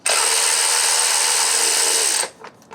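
A power driver runs steadily with a high whine for about two seconds, removing the Allen head bolts from a Yamaha WR250 motorcycle skid plate, then stops, leaving a few faint clicks nearby.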